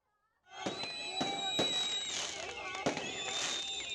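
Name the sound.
firecrackers exploding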